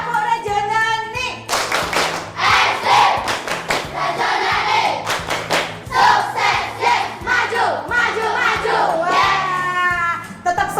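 A class of primary school children performs a rhythmic clapping chant, loud and close, with sharp group claps falling in a steady pattern while a recorded tune plays and voices shout along in time.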